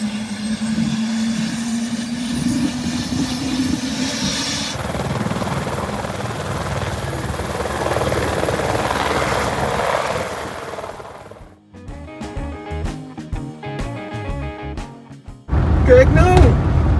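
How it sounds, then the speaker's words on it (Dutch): A helicopter lifts off nearby with a loud, rising rotor drone and whine that swells and then fades, followed by clattering thumps and a burst of noise, with people talking around it. "gaat er ook per ongeluk nog een helikopter de lucht in dadelijk"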